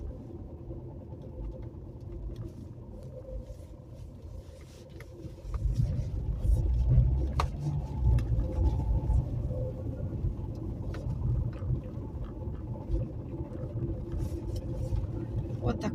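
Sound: car driving on the road

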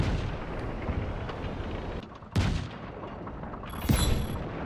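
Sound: cannon fire in video game Just Cause 3

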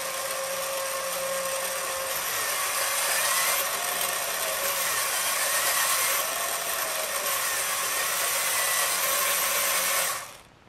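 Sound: robot wheel motors driving under PID control

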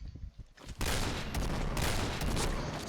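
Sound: gunfire from the video game Point Blank

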